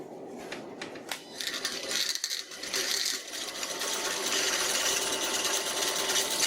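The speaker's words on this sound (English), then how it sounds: "Hopefully I got more luck with this drill bit, which should be the final size." A power drill bit grinds into an old metal file, starting with a few rattling bursts and then settling into a loud, continuous high-pitched whine.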